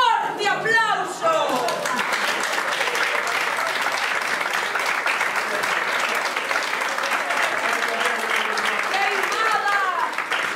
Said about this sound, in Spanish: pido un forte aplauso